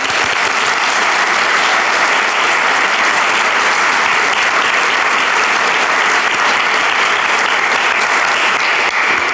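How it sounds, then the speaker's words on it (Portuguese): Steady, dense applause from a capoeira audience in Finland, loud and continuous throughout, with no voices rising above the clapping. "Aplausos."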